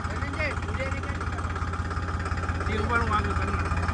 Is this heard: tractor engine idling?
yes